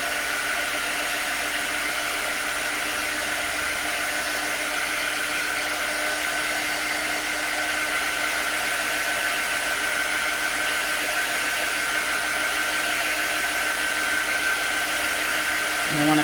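A hair dryer blows steadily and continuously to dry shimmer nail polish, a constant loud whirring hiss with no pauses, and no voices over it.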